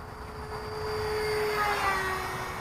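An eFlite F-15 RC jet flies a mid-throttle pass, a steady faint whine of its electric ducted fan swelling slightly as it comes closer, heard from a distance.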